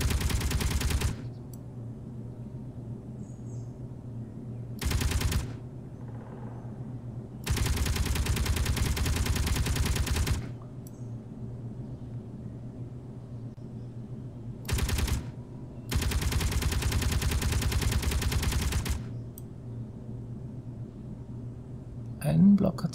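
Automatic turrets and weapons fire in bursts in Space Engineers. Several bursts of a few seconds each are heard, spaced by quieter gaps with a low steady hum underneath.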